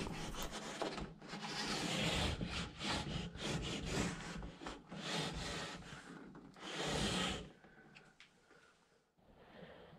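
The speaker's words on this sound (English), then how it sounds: "I will bevel the bottom using the established bevel already on the bottom to that line for a nice snug fit." A wooden boat hull bottom being bevelled by hand, a steady rasping, scraping rhythm of strokes across the wood, close and fairly quiet, ending with a few softer touches.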